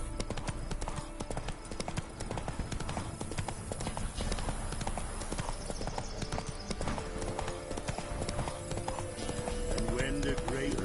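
Horse Roach's hooves clip-clop in a steady trotting rhythm in The Witcher 3, loud and continuous throughout, layered over game music and ambient background.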